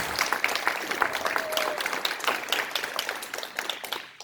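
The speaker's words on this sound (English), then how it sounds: "let's clap for that, please." Audience applause at a Lions Club 90th anniversary event, a dense, steady wash of many hands clapping at moderate volume that tapers off near the end.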